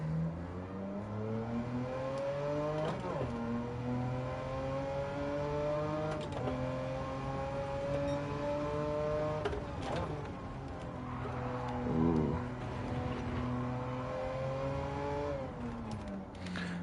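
A Porsche race car in a racing video game screams through its gears, the engine note climbing steadily and dropping at each shift in a repeating pattern, loud and continuous, with a voice talking now and then.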